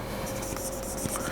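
Handwriting strokes scratch out numbers, a close series of short scratchy pen or marker strokes in an irregular rhythm, with a faint breathy voice in the background.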